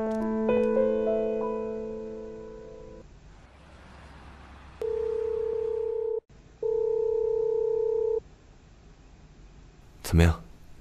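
A phone call goes unanswered, heard as two long, even ringback tones on the line with a short gap between them, followed by a brief sharp sound.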